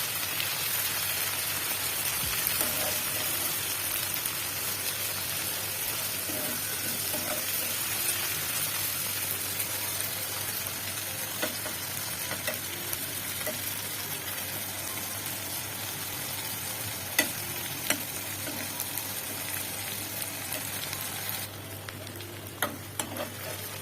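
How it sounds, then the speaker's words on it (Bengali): Dried rupchanda fish frying with onion and garlic in a pan gives off a steady, dense sizzle that holds evenly throughout, close by, with faint scrapes of stirring and no talking. "পেঁয়াজ রসুনের সাথে শুটকিগুলো দিয়ে দিলাম"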